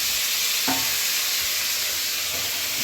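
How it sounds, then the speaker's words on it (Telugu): Chicken curry with tomatoes sizzles steadily in a hot pan, close and continuous, with a faint clink of the stirring spoon early on and no voices. "సో మనం టమాటాలు అవన్నీ వేస్తున్నాం కాబట్టి కొంచెం ఇలా కలుపుకోవాలి"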